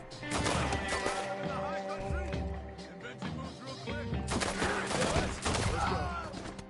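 Gunfire in Red Dead Redemption 2: rapid, overlapping shots crack out in volleys, a sustained fusillade with sharp bursts and crashing hits, loud and close, pausing briefly before resuming with renewed intensity.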